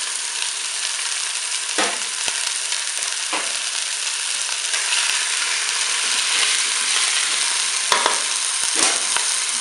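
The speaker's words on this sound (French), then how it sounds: "on fait dorer la rouelle sur toutes ses faces" Pork shank and onions browning in a hot pan give a steady, loud broadband sizzle, broken now and then by brief scraping stirs, with no voices.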